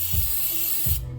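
Two short bursts of penetrating oil sprayed from an aerosol can onto a stock 2002 GMC Denali XL, each a close, hissing spray with a brief pause between and no talking.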